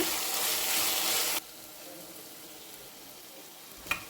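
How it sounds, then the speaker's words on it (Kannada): Tomatoes and curry leaves frying in a pressure cooker for uppitu hiss loudly at first, then settle into a quieter steady sizzle, ending with a single sharp stirring clink. "ಸ್ವಲ್ಪ ಕರಿಬೇವು ಮತ್ತು ಹೆಚ್ಚಿಟ್ಕೊಂಡಿರೋಂಥ ಟೊಮೆಟೊ ಹಣ್ಣು ಇದಿಷ್ಟು ಹಾಕಿ ಟೊಮೆಟೊ ಸ್ವಲ್ಪ ಸಾಫ್ಟ್ ಆಗೋವರೆಗೂ ಫ್ರೈ ಮಾಡ್ಕೊಳ್ಳೋಣ."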